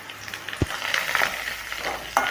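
Curry leaves sizzling in hot oil with onions for a bottle gourd and cowpea kuzhambu, a steady crackling fry with two sharp pops, close and alone.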